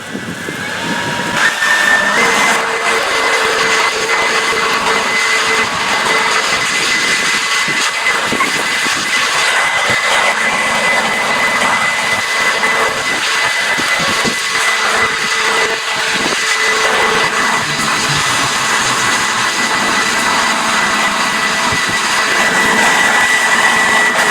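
A Greenworks G-Max battery leaf blower runs at a steady high-pitched whirring roar, loud and close, holding constant for the whole stretch with no talking.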